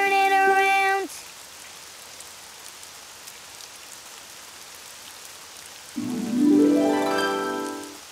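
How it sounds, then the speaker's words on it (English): Steady, soft rain hiss fills a quiet stretch, framed by short bright musical tones at the start and end. "it's raining outside"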